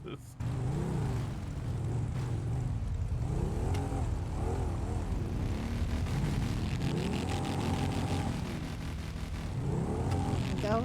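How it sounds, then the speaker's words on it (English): Several cars in GTA V rev their engines together in a steady, layered drone with rising and falling pitch sweeps, heard under continuous talk. "Everyone's revving their engines."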